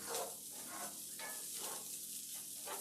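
Food sizzles steadily in a cast iron skillet while a utensil stirs and scrapes through it in repeated strokes, close and continuous, with no talking.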